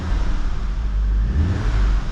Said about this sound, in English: Give the car a little rev